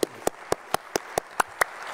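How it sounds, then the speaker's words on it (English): Eight crisp, evenly spaced claps ring out at a brisk, regular beat, close and distinct, honouring librarian award winners at a celebration event. "Please join me in giving them another hand of applause."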